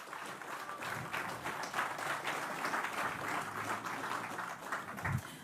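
An audience at the opening and ribbon-cutting ceremony for a learning center applauds warmly, a continuous, even patter of many hands clapping at moderate volume.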